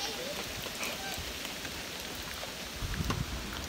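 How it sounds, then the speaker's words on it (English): Steady rain on a windy day, a dense broadband hiss of drops hitting surfaces that fills the whole stretch evenly, with a slightly heavier, louder patch of patter near the end. "It's been raining all day."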